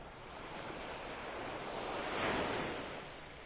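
Ocean surf washing onto a beach in North Naples, Florida, a steady broadband wash that swells to a crest near the middle and then eases back, with faint wind across the microphone and no voices.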